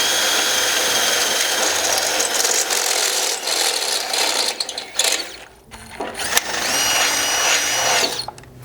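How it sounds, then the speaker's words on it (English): A power drill bores 7/16-inch holes in the metal mounting for a gas tank skid on a 100 Series Land Cruiser, whining loudly and steadily, stopping briefly, then spinning up again close by. "you're going to need to mark and drill all three of these holes to 7/16"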